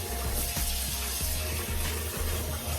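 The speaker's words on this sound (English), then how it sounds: "This is how I wash my rice guys." Rice being washed by hand in a bowl of water to rinse out the starch gives a steady wet swishing and rubbing, with soft rhythmic sloshes repeating under a constant watery hiss.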